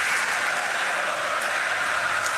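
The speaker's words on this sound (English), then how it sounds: "Crowd getting it back into it now" A hockey arena crowd roars steadily during a Canada game at the 4 Nations tournament, a broad, sustained wash of cheering with no single voice standing out.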